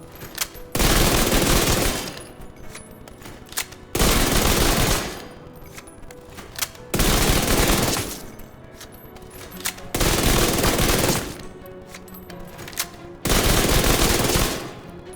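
Vector SMG fire in the video game Division 2, five long, loud, sustained automatic bursts of about a second each, separated by short gaps with quieter game sounds.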